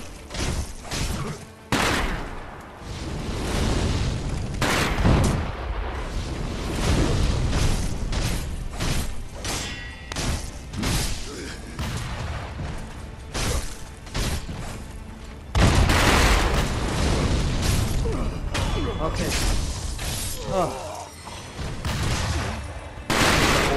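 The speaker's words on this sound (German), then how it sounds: "Haben die hier Knallfrösche auf dem Boden?" Rapid firecracker-like explosions from a trap in the video game Sekiro crackle in loud, dense bursts throughout, with sharp pops and booms repeating irregularly and a heavier volley partway through.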